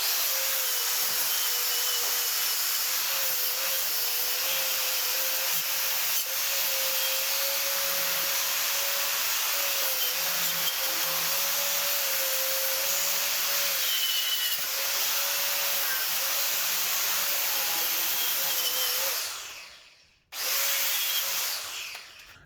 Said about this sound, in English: we're going to get as much of the rust off as we can with my wire wheel